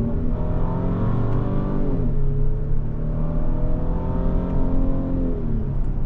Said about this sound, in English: And now we're going to go ahead and shift down.